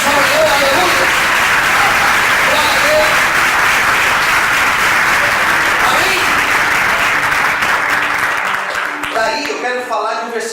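A church congregation's loud, sustained applause in praise on a morning service fills the room, then thins out near the end as a voice begins to speak.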